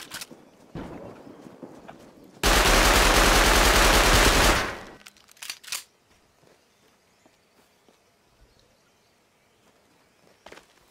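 Gunfire in the video game Rust, a few isolated shots followed by a long, loud burst of rapid automatic fire lasting about two seconds, then scattered footsteps and quieter clatter.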